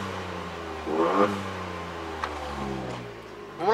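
A turbocharged Volkswagen up! TSI engine idles low, then revs once with a quick rise and fall, followed by short sharp blow-off valve hissing bursts from the front as it settles.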